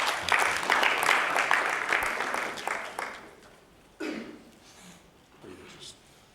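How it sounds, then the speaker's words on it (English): An audience at a conference session on information and communications technology applauds a speaker. The dense clapping is strongest at first and thins out after about three seconds, with brief talk and a few scattered claps following. "Can we have a nice round of applause for Rhinehart?"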